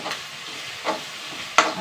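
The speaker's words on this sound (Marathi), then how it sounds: "इथे मी कांदा तळण्यासाठी ठेवला आहे" Sliced onions fry in hot oil for chicken biryani, a steady soft sizzle broken by a few sharp stirring scrapes, close and with no voices.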